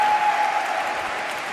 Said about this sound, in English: Big roar from the crowd.